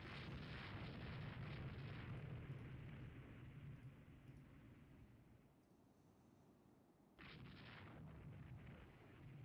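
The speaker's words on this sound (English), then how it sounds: "No! Roma's hit by a torpedo." A torpedo strikes the battleship Roma in the naval game Rule the Waves 3, a broad roaring explosion that rumbles and fades, then a second heavy burst hits abruptly before the sound dies away.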